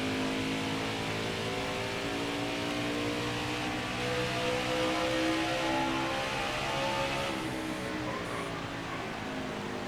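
A NASCAR Xfinity Series race car engine at Phoenix Raceway in NASCAR Heat 5 drones loud and steady, holding a high sustained pitch with slight rises and dips as it runs the track.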